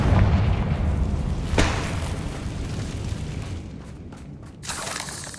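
A Confringo blasting spell goes off in the Hogwarts Legacy video game, a loud booming explosion with a sharp crack near the start, then a rumbling tail that fades.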